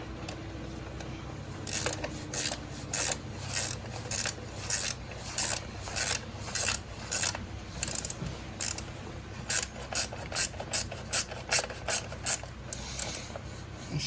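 Ratchet wrench tightening the bolts of a Heed crash bar on a 2017 Honda Africa Twin, a run of quick repeated clicking bursts, close and steady, over a quiet background.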